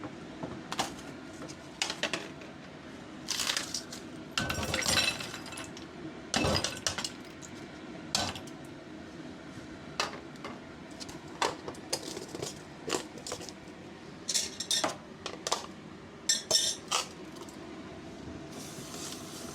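Ice cubes clatter and clink as they are poured into a home ice maker, with irregular bursts of hard glassy rattling separated by quieter gaps over a low steady room hum, fairly close and moderately loud.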